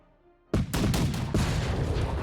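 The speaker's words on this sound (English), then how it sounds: "Fire my cannons." Cannon volley in the Napoleonic strategy game Victory & Glory: Napoleon, a sudden loud boom after a quiet moment, followed by several overlapping blasts and a rumbling sustained roar.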